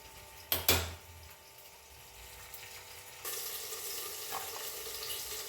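Tomato and coriander chutney ingredients fry in a covered pan, giving a steady soft sizzle with two sharp clatters near the start and the frying growing brighter and louder midway.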